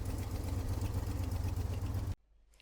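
A Chevy V8 fitted in a classic FX4 taxi idles with a steady, lumpy rumble, loud and rhythmic for about two seconds, then cuts off abruptly into near silence.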